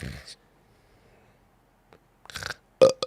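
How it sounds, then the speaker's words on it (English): A short, close burp sounds near the end, after a brief noise and a stretch of near silence. "burps are okay"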